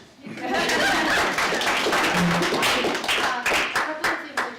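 At a Latino community forum on police accountability, an audience breaks into clapping that swells quickly, mixed with chuckles and laughter, then thins into scattered individual claps.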